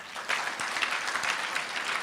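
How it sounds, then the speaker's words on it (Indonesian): A congregation at a morning church prayer service claps steadily, a dense patter of applause that keeps going at an even level from start to finish. "Tepuk tangan buat dia."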